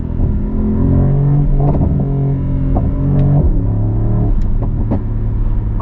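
Mercedes-AMG GT63 coupe V8 hybrid engine heard from inside, a loud deep rumble that rises through revs, drops on downshifts and climbs again, with brief pops between gears.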